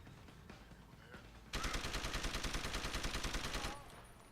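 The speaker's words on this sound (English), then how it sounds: "Let's take him out with the machine pistol." A machine pistol fires a rapid, steady burst of around two seconds in Deus Ex: Human Revolution, loud and close, a fast rhythmic rattle following quieter game ambience and footsteps.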